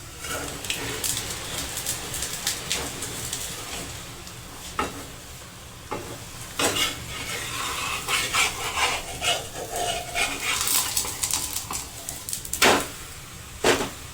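A spicy gram-flour pudla pancake is flipped in an oiled pan and sizzles steadily for the whole stretch, with spatula scrapes and clinks of utensil against pan rising over the frying hiss, close up and without speech.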